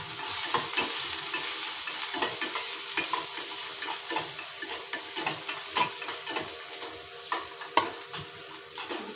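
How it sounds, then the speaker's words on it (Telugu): Ginger pieces frying in hot oil in a small pan, a soft steady sizzle broken by repeated scraping stirs of a spoon, close and without speech. "ఇప్పుడైతే అల్లం ముక్కలు వేసేసుకుందాము."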